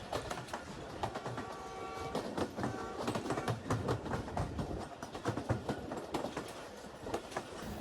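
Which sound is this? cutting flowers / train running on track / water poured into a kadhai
train running on track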